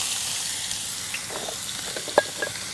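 Finely chopped onion sizzling in a pan over a camp stove, a steady soft hiss with a few small pops and crackles near the end, no talking.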